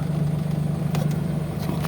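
Toyota Wigo engine running steadily after an overhaul, a low even idle hum heard up close with small ticking clicks on top and no voices.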